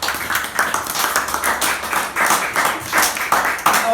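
A church congregation claps together during a sermon, a lively crowd of hands with strong rhythmic pulses beating at a steady pace, loud and close, with no speech over it.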